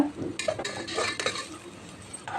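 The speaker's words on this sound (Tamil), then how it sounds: "இப்போ இது வெங்காயத்தோடவே நல்லா வதங்கட்டும் வெங்காயம் நல்லா சுருங்கி வர வரைக்கும் கொஞ்சம் மிதமான தீயில் வச்சு இதை நல்லா வதக்கிக்கோங்க" Onions with chili powder cooking for chicken biryani are stirred in a pan, with a spoon scraping and clinking against the metal over a faint, low sizzle.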